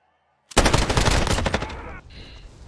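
A long burst of rapid automatic gunfire fired from the hip in Warzone, erupting after a brief silence, loud and continuous for about a second and a half, then tapering off.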